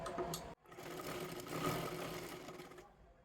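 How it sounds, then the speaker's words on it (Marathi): A sewing machine stitches a strip onto a square-necked blouse for a silk saree, a close, steady buzzing run that stops for a split second early on and then continues before fading near the end, with no voices. "दुसरी पट्टी आपल्याला शिलाई करून घ्यायची आहे"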